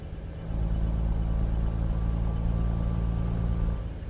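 A truck cab interior in American Truck Simulator with a modded engine sound, a steady low droning rumble that swells up, holds evenly and eases back slightly, with no talking.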